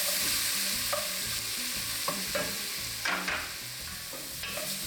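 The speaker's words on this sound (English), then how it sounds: "Now, let's put the sausage in." Sausage sizzles steadily in a soup pot for a jalapeño chicken cheddar soup, with repeated scraping stirs breaking through the close frying hiss; no voices.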